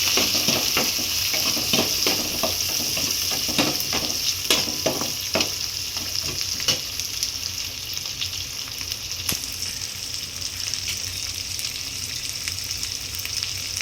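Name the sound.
frying spices in a pan for medicinal kuzhambu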